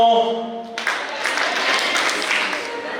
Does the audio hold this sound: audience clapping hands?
yes